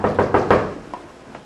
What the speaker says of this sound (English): A knock at the door.